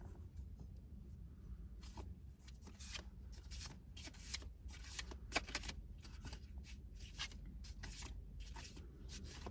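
Tarot cards shuffled outdoors near sunset, a run of soft, close riffling flicks and slaps repeating irregularly over a low steady background rumble, with no talking.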